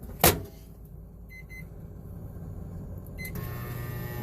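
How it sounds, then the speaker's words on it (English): A sharp click, then a few short electronic beeps from keypad presses, followed by a low steady hum as an appliance starts running. "Just start up the microwave"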